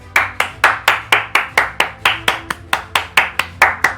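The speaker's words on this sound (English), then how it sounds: "Can we get some claps in chat for that?" Single person clapping at a steady, even pace, about a dozen sharp claps in four seconds, close and loud with no other sounds.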